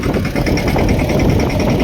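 A tractor engine runs in a farm field, a loud, steady mid-pitched idling rumble with vibration throughout and no talking.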